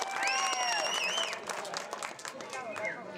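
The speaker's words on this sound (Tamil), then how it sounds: "வாழ்த்துக்கோ, கைதட்டு கொடுங்க." Audience at a village drama performance in Manamadurai clapping, a dense patter of hands that swells and fades, mixed with loud shouts and whistle-like voices from the crowd.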